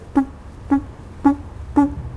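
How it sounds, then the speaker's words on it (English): Four evenly spaced, hollow wooden knocks from a mokugyo, the carved wooden temple drum struck during Buddhist chanting, each sharp and resonant with a short ring, played alone at a steady, slow rhythm. "we call that some wooden drum or called mokugyo"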